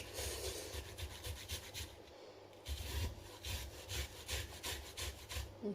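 Fresh ginger is rubbed back and forth against a kitchen grater in steady rasping strokes. The sound is quiet and close, with a short pause midway and no voices.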